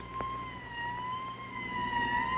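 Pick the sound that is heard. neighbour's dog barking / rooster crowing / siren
siren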